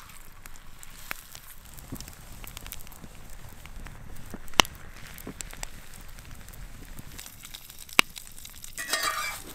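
Rainbow trout frying in moose fat in a hot skillet over an outdoor campfire in winter, a steady soft sizzle with fire crackle and a few sharp pops and clicks, moderately close, no talking.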